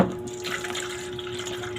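Tap water runs steadily into a cooking pot, a close, continuous splashing gush with a faint hum beneath it and no voices.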